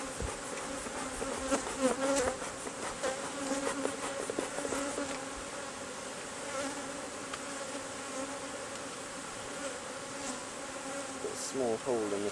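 Bees swarm and buzz steadily around an open backyard hive during a smoker inspection, a dense, continuous drone close by with shifting wingbeat tones throughout.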